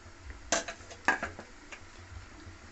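A spoon stirs okra masala curry in a cooking pot, giving two distinct clinks and scrapes against the metal followed by softer scraping, close and fairly quiet with no voices.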